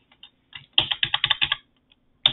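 Computer keyboard keys pressed while editing text in Emacs: a few light taps, then a quick burst of about eight clattering keystrokes, a pause, and one more sharp press, close and clear with no voices.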